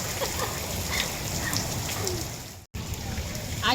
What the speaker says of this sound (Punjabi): ਮੈਂ ਕਿਹਾ ਬਾਰਿਸ਼ ਤਾਂ ਬਾਹਰ ਹੈਗੀ ਹੈ